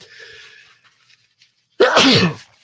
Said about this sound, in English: Man, I got to sneeze again.